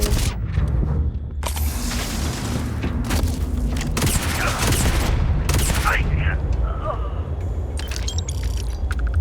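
Weapon fire from the mag boss in the video game Starfield: loud booming bursts over a dense, constant game soundscape, with a few sharper cracks near the end.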